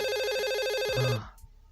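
A telephone rings loudly and close by with a bright, rapidly trilling bell tone, then cuts off abruptly and leaves a quiet room.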